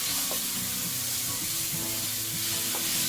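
Lamb stir fry sizzling loudly in a hot pan while it is stirred, a dense, steady hiss filling the whole stretch with faint scraping underneath.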